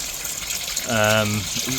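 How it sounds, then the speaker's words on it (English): Water surges back into a UK septic tank during emptying, the ground soaked from recent rain, making a continuous close rushing wash while someone briefly speaks over it. "the water is actually pushing back into the tank."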